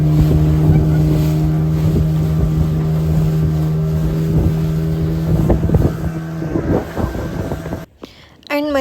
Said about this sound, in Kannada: ಇಲ್ಲಿಂದ ನಿಮಗೆ ಒಂದು ಬೋಟಲ್ಲಿ ಕರ್ಕೊಂಡೋಗಿ ಇನ್ನೊಂದು ಬೋಟ್ಗೆ ಬಿಡ್ತಾರೆ